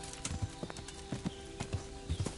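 Horse hooves in the video game Kingdom Come clip-clop in an uneven, quick rhythm, fairly faint, over a steady background hum.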